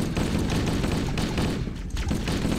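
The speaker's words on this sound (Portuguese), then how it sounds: "Eu atirando no meu parceiro" Sustained gunfire from Halo: Combat Evolved on PC, dense overlapping bursts and shots rattling steadily for the whole stretch, loud and close with a brief dip near the end.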